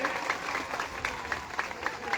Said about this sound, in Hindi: जोरदार ताली बजा के इनका स्वागत करिए।